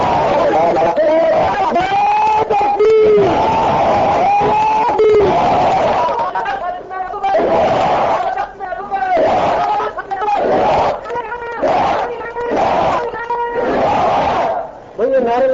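Large crowd at a religious gathering chanting slogans in loud, rhythmic unison bursts, voices swelling together with some babble between the shouted phrases.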